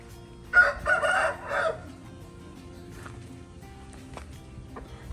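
A rooster crows once, loud and close, then quieter clucking and faint farmyard sounds follow.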